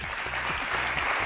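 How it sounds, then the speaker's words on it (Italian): An Italian television studio audience breaks into brief, dense applause, a steady wash of clapping, with a low musical hum underneath. "un bel applauso"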